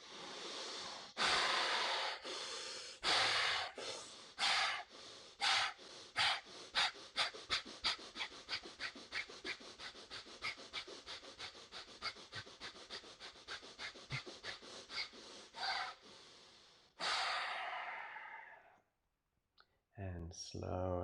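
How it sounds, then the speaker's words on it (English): Repeated deep inhalations and exhalations during a pranayama breathing exercise, close and loud, starting with long breaths and speeding into a fast rhythmic series of sharp breaths, then a long final inhale and a pause. "Fifth and final round, deep inhale."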